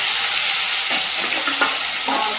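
Large pieces of fish frying in oil in a pan, a loud continuous sizzle with faint spatters and stirring, close by, no voices.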